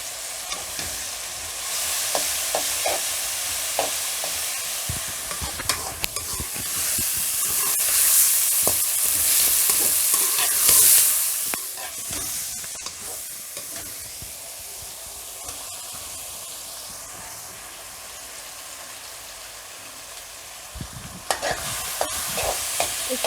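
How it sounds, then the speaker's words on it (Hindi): Tomatoes, onions and green chillies for bhindi masala sizzle and fry steadily in a pan while being stirred, a loud continuous hiss with scraping stirs and occasional clatters, no talking. "इसको अच्छी तरह भून लेंगे।"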